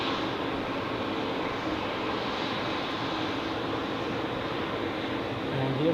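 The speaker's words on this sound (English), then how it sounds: "here we have a Helvetic Embraer 190 E2. Taxiing behind a lineup of more Helvetic Embraers" A Helvetic Embraer 190 E2 airliner taxis at Zurich Airport, its engines giving a steady, even broadband roar that holds at a constant level throughout, with a slight swell near the end.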